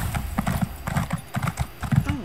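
Horse hooves clip-clopping in a steady galloping rhythm inside a video game, with a brief whinny near the end, fairly close and clear while a voice talks quietly over it.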